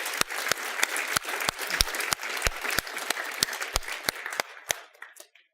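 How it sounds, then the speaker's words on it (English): A conference keynote audience gives a round of applause for the organizers: many sharp, close hand claps in a steady crowd wash that gradually thins into scattered claps and fades out. "So please join me in giving a round of applause to our organizers"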